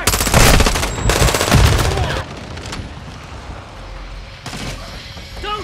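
Rapid automatic gunfire from a multiplayer Hardpoint match in Call of Duty: Modern Warfare II, loud and dense bursts over the first two seconds, then sparser distant shots and a final burst near the end.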